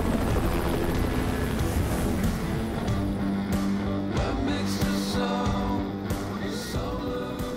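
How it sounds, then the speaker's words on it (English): A helicopter lands on a mountain peak during a heli-skiing trip, its loud rotor chop and engine roar steady and close throughout with no talk. "he's the only one in the heli whose heart isn't in his throat on landings like this one"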